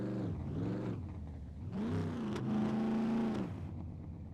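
Engine of a car driven around a city in the video game Scum, a steady droning hum that rises and falls in pitch as it revs and accelerates, loud and continuous throughout.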